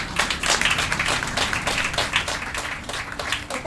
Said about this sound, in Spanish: merecen un aplauso.